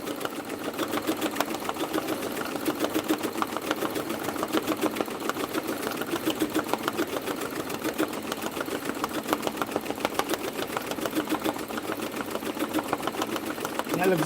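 A cap embroidery machine stitches steadily in a fast, even mechanical chatter of needle strokes that runs unbroken at moderate level, close by, with some talk over it.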